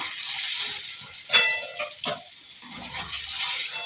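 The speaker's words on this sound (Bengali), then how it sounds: "পনির সবসময় একটু ভেজে নেবেন, ভেজে নিলে স্বাদটা ভালো আসবে।" Paneer lightly frying in oil gives a continuous bright, hissing sizzle with a few louder spits and pops, close by and without talk.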